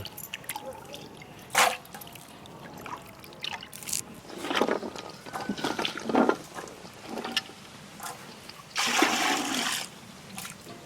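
Water splashes and pours in several short bursts into a pot of jackfruit seeds, the longest near the end, against a quiet room background.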